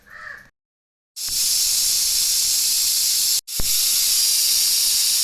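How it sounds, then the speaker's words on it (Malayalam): A loud, continuous jet of steam hisses from a pressure cooker cooking chicken and potato curry with coconut milk, briefly cutting out before bursting back just as strongly. "തേങ്ങയുടെ 2ാം പാൽ ചേർത്ത് നന്നായി ഇളക്കി കുക്കർ അടച്ച് 2 വിസിൽ വരുന്നവരെ ഒന്ന് വെയിറ്റ് ചെയ്യാം"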